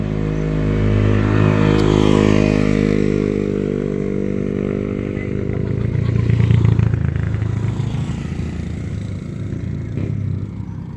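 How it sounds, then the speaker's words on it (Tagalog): Several motorcycles pass along a road one after another, loud engine drones rising and fading as they go by nearby, with some rattling and revving. "madami ng mga motorsiklo na dumadaan guys"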